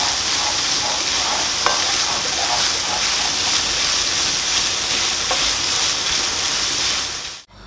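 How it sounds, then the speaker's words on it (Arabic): Spinach cooks in a pot over low heat for an Aleppo-style spinach dish, giving a constant close sizzle and bubbling hiss with one faint clink, then cutting off abruptly at the end. "وعلى نار هادية لوقت ما يستوي معي سلق السبانخ"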